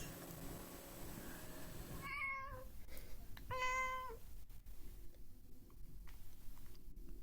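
A cat meows twice in quick succession, clear and fairly close, against a quiet room hum with a few soft ticks and rustles afterward.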